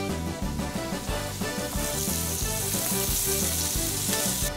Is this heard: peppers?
yes